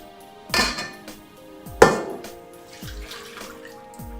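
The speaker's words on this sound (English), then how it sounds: "One cup of milk. You wanna pour it in?" Milk splashes and pours into a bowl, with a couple of sharp clinks against the rim and quieter trickling afterward.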